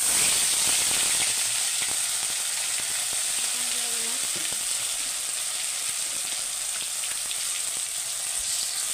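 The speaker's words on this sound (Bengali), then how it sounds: "এখানে আমি ফোড়ন দিয়ে দিচ্ছি একটা শুকনো লঙ্কা আর অল্প কালো জিরে" Dry red chili and a pinch of black cumin sizzle steadily in hot oil for a fish curry, a dense continuous crackling hiss close up with small pops, no talking.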